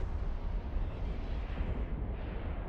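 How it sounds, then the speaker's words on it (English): Dense, continuous low rumbling roar of spaceship explosions in the space game EVE Online, a steady booming wash with no clear gaps between blasts. "Stormbringer beautiful explosions?"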